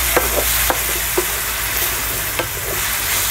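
Masala sizzling loudly in hot oil during stir-frying for an egg dish, a dense steady crackle with several sharp scrapes as it is stirred, heard close up with no one talking.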